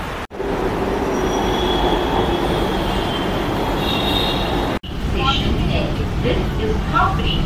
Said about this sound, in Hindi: बस अभी मेट्रो आने ही वाली है